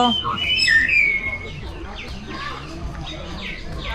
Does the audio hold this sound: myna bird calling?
yes